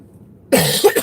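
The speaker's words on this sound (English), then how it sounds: "Got this dry cough lately." One short, harsh dry cough from a driver, loud and close, bursting out of near silence and followed by a couple of smaller rasping coughs.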